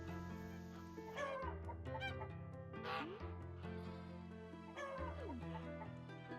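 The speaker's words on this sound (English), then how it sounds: "Let's go and see the chickens and things." Chickens and other farm animals clucking in the video game Echoes of the Plum Grove, mixed into a continuous layer of soft, tonal game music at low volume.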